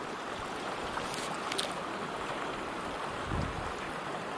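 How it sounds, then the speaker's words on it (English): A small mountain stream at a natural hot springs campsite in Colorado flows with a steady, broadband rushing wash. It stays continuous and moderately loud throughout, with faint wind buffeting the microphone. "you get to see things like this little stream coming through"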